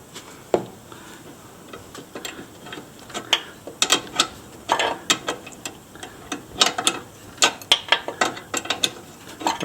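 A ratchet ring spanner turning a 17mm nut, giving a rapid run of crisp metallic clicks in irregular bursts, close and fairly loud over a quiet background.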